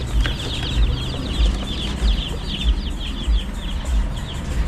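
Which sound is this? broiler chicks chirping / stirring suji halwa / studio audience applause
broiler chicks chirping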